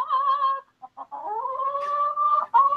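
A chicken is nearby, giving long, drawn-out squawking clucks broken by a few short, clipped clucks, loud and close with nothing else around it.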